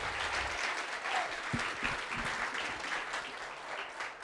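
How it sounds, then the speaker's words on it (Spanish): Steady applause from a church congregation fills the room for a few seconds, continuous clapping at a moderate level. "un aplauso para todos, porfa"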